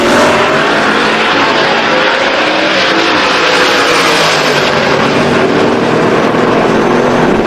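A 1966 Chevy II Nova drag car makes its pass down the strip at a heavy-hitter street-car event, a loud, sustained, full-throated engine roar that stays strong and steady throughout, with no talk over it.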